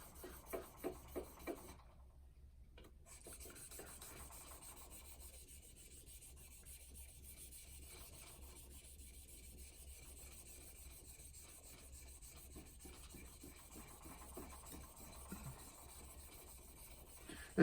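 Folding EDC knife blade stroked on a 1000 grit whetstone: quiet, steady back-and-forth rubbing scrapes, close and faint, after a few distinct opening strokes.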